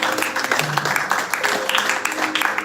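Church congregation at a Sunday service applauding and acclaiming Jesus, a steady wash of clapping and cheering voices that stays fairly loud for a few seconds.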